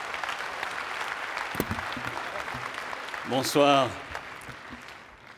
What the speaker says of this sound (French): que vous pouvez également applaudir.